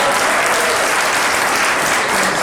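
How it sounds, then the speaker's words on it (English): Audience applause, a dense continuous burst of many hands clapping at once, loud and close, holding steady for a few seconds. "She got so much applause"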